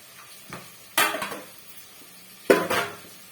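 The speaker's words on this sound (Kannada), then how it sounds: "ಎಲ್ಲ ತರಕಾರಿ ಹಾಕ್ತಾ ಇದ್ದೀನಿ" Chopped carrots, cabbage and beans tumbled into a cooker pan for rava upma, giving two short clattering bursts of vegetables and utensil against metal, close and fairly loud with quiet gaps between.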